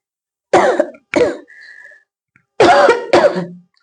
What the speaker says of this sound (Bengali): অনেকক্ষণ হয়ে বারবার আমার একটা কাশি আসছে